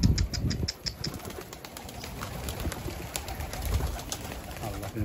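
Pigeons nearby coo and flap their wings in short bursts, the loudest flutter near the start and again around the middle, with rustling and low handling noise underneath.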